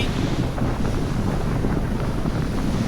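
Express cruiser boat pushing into 3 to 4 foot chop on the Chesapeake Bay at about 2,000 RPM and 9 to 10 mph, a loud continuous roar of engine, wind and hull slapping water, with no voices.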